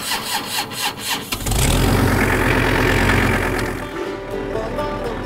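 A tractor engine cranks with a few rapid chugs, then catches and settles into a loud, steady rumbling idle nearby.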